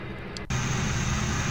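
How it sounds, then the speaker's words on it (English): On a Dash 8 Q400 turboprop in a flight simulator, a sharp click sounds as engine 1's start begins. A broad, steady rush of engine noise then rises and holds at a moderate level. "Starting engine number 1."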